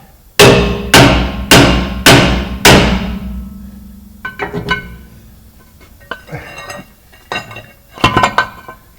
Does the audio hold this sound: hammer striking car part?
yes